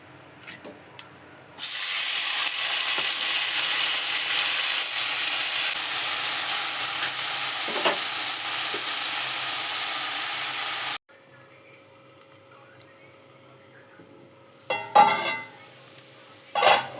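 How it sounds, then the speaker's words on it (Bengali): Potatoes frying in a pan for a meal with flatbread give a loud, steady hiss that runs unbroken for about nine seconds, then cuts off abruptly, leaving quiet clatter and a few brief bursts. "রুটির সঙ্গে খাওয়ার জন্য আলু ভাজা করব"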